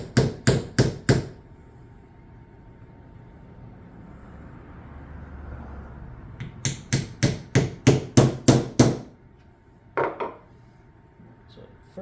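A hammer drives a wedge into the handle of a rounding hammer with sharp, close metallic strikes, first a quick run of four, then a longer rapid series of about eight, and a final pair after a quiet pause.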